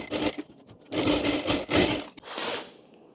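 A sewing machine stitching a short kurti, running in close, loud bursts of rapid needle clatter separated by brief pauses as the fabric is repositioned.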